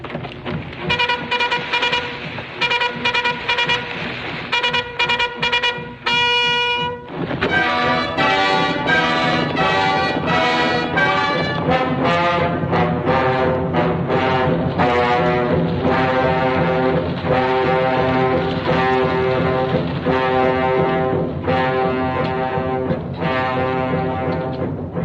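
A military bugle call sounding the gallop blares loud, bright and brassy in rapid repeated bursts, then switches to a longer, sustained, continuous fanfare.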